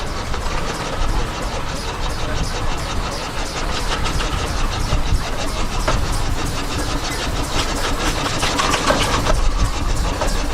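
A vintage Aveling tractor engine runs steadily at a steam and vintage rally, giving a continuous loud mechanical rumble and chatter that carries on without a break.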